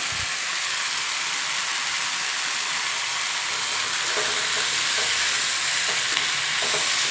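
Poppy seeds frying in a pan over a medium flame while preparing restaurant-style chana masala, a continuous loud sizzle with a few faint clinks of stirring, no voices.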